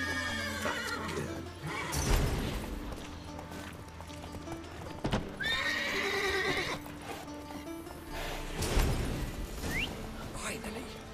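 Horses in The Witcher 3 video game whinny and neigh several times, with hooves clopping and shuffling nearby, amid a busy, layered scene with voices in the background.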